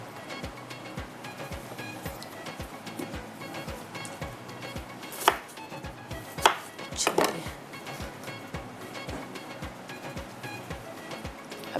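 Food chopped on a board on a television cooking show, with steady, evenly spaced knife knocks close by and a few louder clattering hits partway through.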